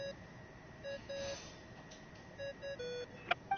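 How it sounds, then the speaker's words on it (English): A phone ringing tone in Genshin Impact, a faint electronic melody of short repeated beeping notes with pauses between phrases, ending with a couple of brighter chimes. "I really hate that ringing tone."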